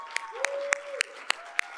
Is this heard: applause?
yes